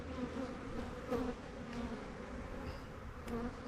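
Bees from a strong hive colony keep up a dense, continuous buzz, close and steady, with small swells of individual insects passing near.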